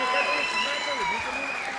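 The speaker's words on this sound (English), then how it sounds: "give these two warriors a big round of applause" A boxing event crowd applauds two fighters with a broad wash of clapping and cheering. A loud announcer's voice dominates over it throughout.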